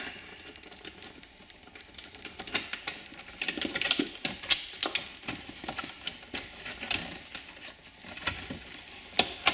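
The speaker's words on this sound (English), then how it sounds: "it just snaps and pulls out" Plastic console trim clips on a C6 Corvette snapping and being pried loose, a steady run of small sharp clicks and rustling taps at close range with no voices.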